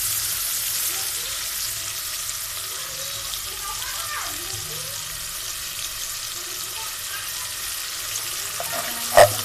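Onions and hilsa fish fry in a pan with a steady, close sizzle and crackle, a sharp clink sounding near the end.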